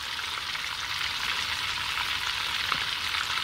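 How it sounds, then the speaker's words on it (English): Half a shallot sizzles in butter for garlic Parmesan mashed potatoes, a steady, fairly quiet hiss that holds evenly from start to finish with no other sounds. "I'm adding a few little, like a half of a shallot into the butter"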